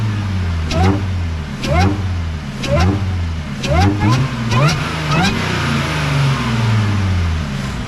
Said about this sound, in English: And now I'll set you guys up front for the supercharger.